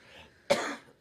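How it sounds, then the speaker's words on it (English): A single deep, harsh cough bursts out close by after a faint moment of quiet. "I developed this cough last night, and it's kind of deep and painful"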